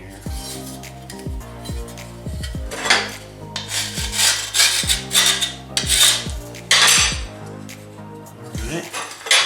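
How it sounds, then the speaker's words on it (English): A hand tool rasping along the trimmed edge of a sheet-metal patch panel to deburr it, in repeated scraping strokes with metallic ringing, close and fairly loud. "I think it needs a little bit of a deburr here."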